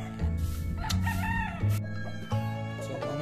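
Yellow-legged hatch gamefowl rooster crowing loudly and close, several repeated crows in quick succession with no other sounds around them.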